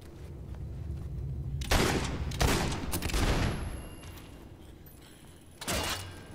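Gunfire in the fantasy action game Fable 3 cracks in a cluster of sharp reports in the middle, each ringing on, followed by a single loud shot near the end. No one speaks.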